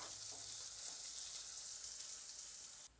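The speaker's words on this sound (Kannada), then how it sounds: "ಗ್ಯಾಸನ್ನು ಮೀಡಿಯಂ ಫ್ಲೇಮ್ನಲ್ಲಿ ಇಟ್ಟುಕೊಂಡು ಇದನ್ನು ಈ ಥರ ಫ್ರೈ ಮಾಡಿ ಮಿಕ್ಸ್ ಮಾಡಿಕೊಂಡು" Onion and tomato frying in a pan over a medium gas flame for mushroom biryani, a close, steady sizzle that drops off abruptly at the very end.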